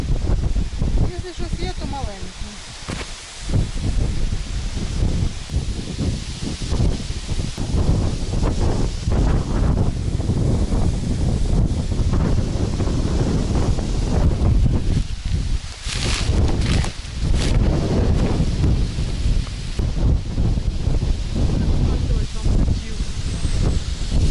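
Strong gusty wind roars across an open public pond, buffeting the microphone continuously for the whole stretch with heavy low rumble and bursts; people talk under the wind noise.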